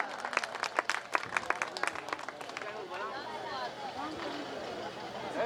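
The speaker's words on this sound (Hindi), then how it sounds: "आप लोग जोरदार ताली लगाए।" An audience at an award ceremony during a Vishwakarma drama-society event breaks into lively clapping that fades into crowd murmur and chatter, with a voice speaking over the hall noise.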